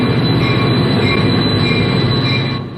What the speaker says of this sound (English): The steady, mournful clang of the train's bell was the only thing to mark the end of the line for Amtrak's North Star run from Duluth.